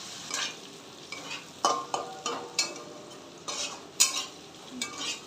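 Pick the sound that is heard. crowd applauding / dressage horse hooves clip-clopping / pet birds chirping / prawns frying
prawns frying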